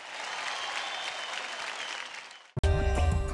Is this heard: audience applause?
yes